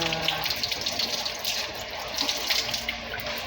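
Tap water runs steadily into a sink as vegetables are rinsed for a salad, a close continuous splashing stream with no clear speech.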